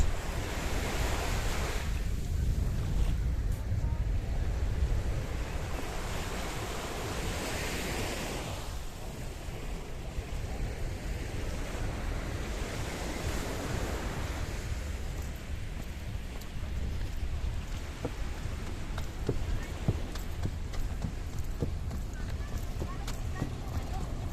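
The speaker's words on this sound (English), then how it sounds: "I will leave you with the beautiful, beautiful blue Mediterranean Sea" Waves of the Mediterranean Sea wash onto Rikkos Beach in Paphos, Cyprus, a continuous surging roar of surf with gusts of wind buffeting the microphone.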